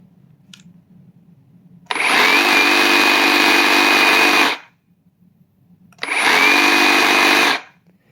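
A Flex or Metabo HPT reciprocating saw runs in two bursts, a loud, steady, buzzing whine that starts abruptly, holds for a few seconds and winds down, close to the listener with quiet pauses between.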